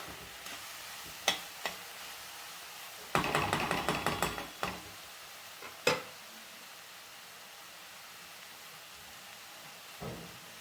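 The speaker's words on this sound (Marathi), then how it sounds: "हे व्यवस्थित मोठ्या गॅसवर परतवून घ्यायचं." Vegetables for Hakka noodles stir-fried on high flame in a pan, with a few sharp spatula scrapes and a busy burst of clattering tossing, under a faint steady sizzle, no talking.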